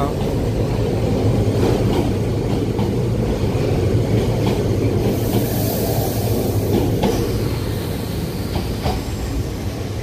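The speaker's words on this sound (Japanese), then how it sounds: "先ほどの電車かっこいいな" A retro-styled train rolls past at close range: a steady, loud rumble with faint wheel clicks that runs continuously for about ten seconds, with no talking.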